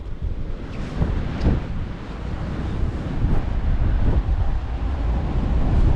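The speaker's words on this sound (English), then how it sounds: "It's gonna be windy" Strong wind buffets and gusts across the microphone at Sumburgh Head, Shetland, a heavy low rumble that swells and eases, with a faint wash like surf in the background.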